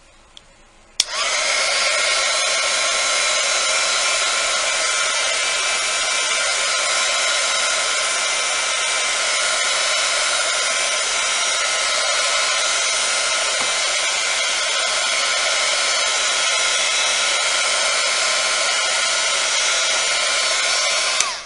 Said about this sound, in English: Now when you're heating polymer clay with a heat gun, you constantly want to move it